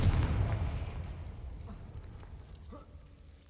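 A Confringo blast curse bursts in Hogwarts Legacy, a loud low explosive boom at the start that rumbles and fades over a few seconds, with faint game ambience trailing after.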